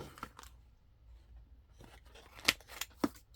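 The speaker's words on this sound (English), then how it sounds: "let's cut the corners. Corner chomp the corners." A corner rounding punch crunches through paper for a handmade junk journal wallet, giving a few sharp, quiet clicks and snips, with faint handling sounds between them.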